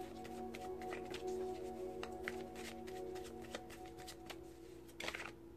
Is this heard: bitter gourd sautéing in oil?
no